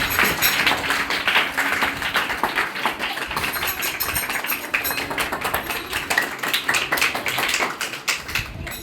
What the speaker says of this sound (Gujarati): જોરદાર તાળીઓ ભાઈ